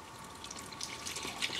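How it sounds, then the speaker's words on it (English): Water trickles and drips into a gingerbread mixture in a bowl, a faint, steady liquid pour heard close up with no talking. "Can you put the water in?"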